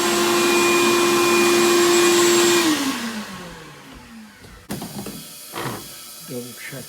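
A vacuum roars loudly while sucking water out of a cabin toilet during winterization, holding a steady whine before spinning down, followed by clunks and handling noises.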